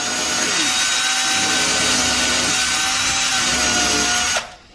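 A power drill whines steadily and loudly up close during furniture assembly in a kitchen, holding one pitch for several seconds before cutting off abruptly, with no talking.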